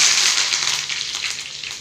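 A loud, crackling sizzle of mustard seeds and urad dal popping in hot oil for a prawn dish, bright and close, gradually easing off.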